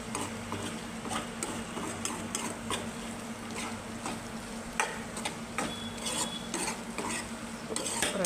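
Okra and egg fry stirred in a pan, with a steady soft sizzle and scraping spatula strokes and light clinks running throughout at close range, with no talking.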